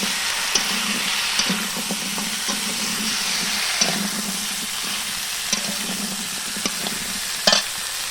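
Prawns, pumpkin and potato sauté in a hot pan with a steady sizzle, while a spoon stirs through it with scattered scraping clicks and taps.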